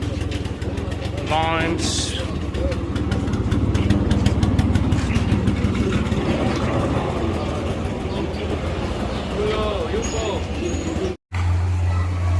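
Engines idling and revving on a busy street in Stone Town, Zanzibar, with a steady low rumble under passing voices and street noise, and a brief engine rise near the start.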